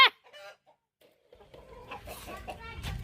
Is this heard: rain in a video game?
no